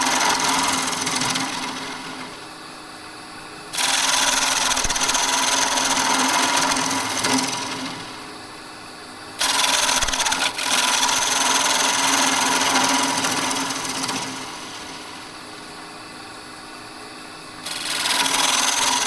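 Wood lathe turning a bowl of ancient oak, with a steady motor hum and bursts of rough scraping as the tool cuts the inside, repeating several times at close range.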